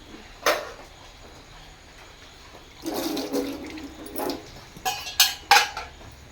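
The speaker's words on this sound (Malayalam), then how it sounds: "കുറച്ചും കൂടെ വെള്ളം ഒഴിച്ച്" Water is poured and sloshed in a home kitchen while rinsing a vessel, with a brief splash early on, then a longer run of pouring and clattering followed by a few sharp knocks of dishes.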